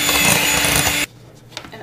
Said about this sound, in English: you're going to blend this until it makes like a crumbly mixture